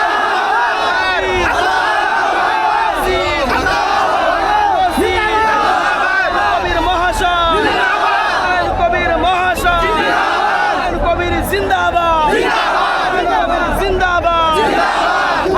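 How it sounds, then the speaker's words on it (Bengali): A large crowd chants the Takbir slogan in loud, repeated massed shouts at a gathering for the foundation laying of the Babri mosque in Beldanga, rising and falling steadily for the whole stretch. "আমরা সকলে বলবো নারে তাকবীর"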